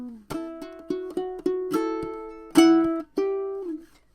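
Close solo ukulele in fingerstyle, opening the chorus of a song: a steady run of plucked notes and chords punctuated by percussive thumps, ending on sustained ringing chords.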